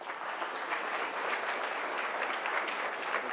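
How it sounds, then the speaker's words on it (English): Steady, dense audience applause fills the room at a humanoids summit opening, a continuous even wash of many hands clapping at moderate distance with no talk over it. "So please give him a warm round of applause."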